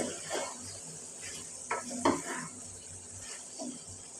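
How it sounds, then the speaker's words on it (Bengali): Mixed vegetables with eggplant are stirred in a sizzling pan, a soft steady frying hiss broken by intermittent scrapes and clinks of a spatula against the metal. "বেগুনটা দিয়ে আমি আবার ভালোভাবে কষিয়ে নেব সবজিটা আমার প্রায় হয়ে আসছে"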